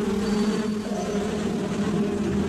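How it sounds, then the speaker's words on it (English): A colony of stinging bees buzzes in a dense, steady drone, close and continuous with no other sounds. "It involved hiding a colony of stinging bees in soldier-like dummies."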